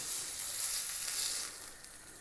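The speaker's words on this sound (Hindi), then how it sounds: "इसी तरह जो दूसरे पीस हैं वो भी हम उनको भी फ्राई कर लेंगे" Chicken steak pieces fry in hot oil, a steady bright sizzle with no talk that fades slightly toward the end.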